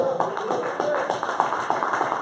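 Clapping from a church congregation honoring the name of Christ, a steady patter of many hands through the whole short stretch, moderately loud with voices mixed in underneath.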